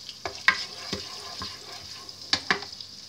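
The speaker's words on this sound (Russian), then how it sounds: "Так, тут у нас масло растапливается." Butter melts in a deep frying pan, giving off soft intermittent sizzles and light pops, close and quiet with no talking.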